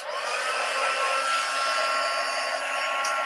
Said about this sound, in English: So I'm just going to get my heat tool